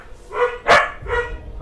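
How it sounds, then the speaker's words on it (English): A dog barks in the room, a few sharp close barks with whiny, yelping tails, loud and spaced unevenly over a couple of seconds. "I'm sorry about the dog, guys."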